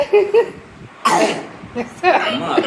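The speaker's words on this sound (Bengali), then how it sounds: "কাশি হয়ে গেছে" A person with a cold and a worsening cough lets out a couple of sharp, husky coughs up close, between snatches of speech.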